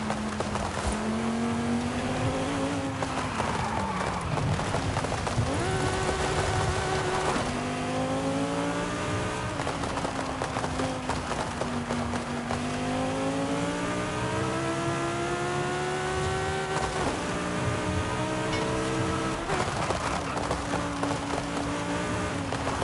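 A McLaren engine revs and shifts in a racing video game, rising and falling pitch sweeps as the car accelerates through gears, steady and loud, with faint tire noise.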